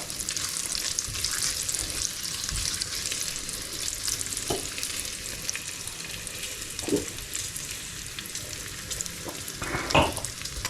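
Bacon sizzles steadily in a pan for a Hungarian chicken stew, a constant crackling hiss broken by a few soft utensil clinks and stirring bumps.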